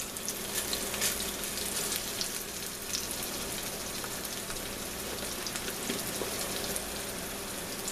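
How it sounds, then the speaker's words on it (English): Okra fries in hot oil in a home kitchen, giving a dense, steady crackling sizzle that stays even throughout with no voices. "It's got a good sizzle on it"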